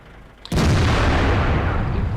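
A Soviet tank cannon fires in World of Tanks, in a match with the premium IS-6: after a brief quiet pause, one sudden loud boom erupts and rolls on as a long, heavy rumble with no voices.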